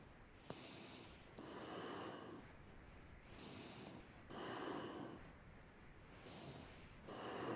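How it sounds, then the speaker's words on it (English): Long, deep Kundalini kriya breathing sounds close to the microphone, slow airy inhales and exhales alternating in an even rhythm, with a small click near the start and no speech. "Long, deep breathing, one more minute."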